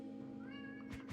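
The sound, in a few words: cat meowing in a video game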